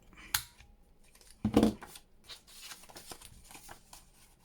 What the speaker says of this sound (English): I'm going to start by trying to cut these, rounding off the flap.